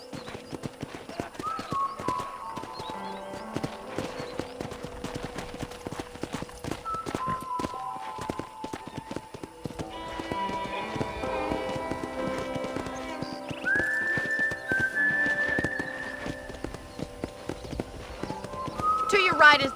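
Horse hooves clip-clop at a steady walking rhythm on a ranch in Red Dead Redemption, continuing under conversation between characters, with occasional musical tones in the background.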